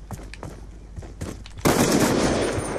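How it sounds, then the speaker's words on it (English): Automatic gunfire from Call of Duty: Black Ops 2 gun game, beginning with scattered distant shots and then breaking into a loud, sustained burst of rapid fire. "Got the same gun and it's shooting me."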